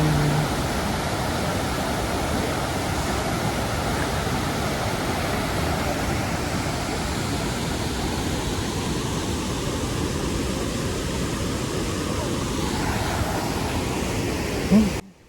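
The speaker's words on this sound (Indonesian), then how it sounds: "Salah satu air terjun tertinggi di Indonesia." A steady, dense roar of falling water fills the scene without pause, broad and constant like a large cascade heard from nearby.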